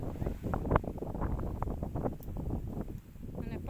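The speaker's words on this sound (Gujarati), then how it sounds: "અને પવન છે," Gusty wind blows across an open farm field during light drizzle. It makes a steady, close, low roar and buffeting against the microphone, with brief rustling flutters and no clear talk.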